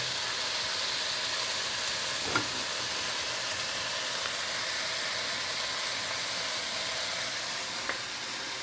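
Breakfast burrito filling frying in a pan, a steady close sizzle and hiss that holds even throughout, broken by a couple of faint clicks.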